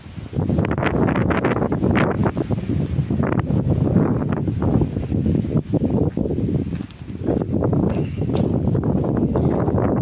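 Strong wind buffets the microphone outdoors on rural land in Japira, northern Paraná, Brazil, in a steady, loud roar with gusty swells and rumbling, continuing for the whole stretch.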